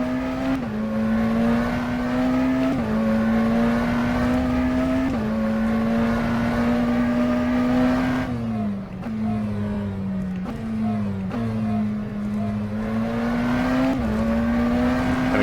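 McLaren Senna GTR race car engine in a racing sim, a loud sustained high-revving drone that climbs in pitch through several gear changes, with a brief dip and lift off the throttle midway.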